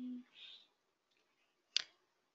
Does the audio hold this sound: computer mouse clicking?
yes